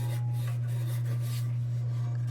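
A big wire wheel scrubs major surface rust off a 1945 Dietz No. 2 Blizzard lantern, a steady close abrasive rasp over a strong motor hum, with no talking.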